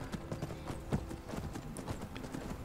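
A horse walks in the Skyrim video game, hooves clip-clopping in a quick irregular rhythm at moderate distance, fairly faint, with no talk.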